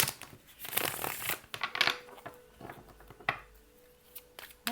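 Soft rustling and riffling of tarot cards being shuffled up close, in irregular bursts with faint crinkly handling noises between.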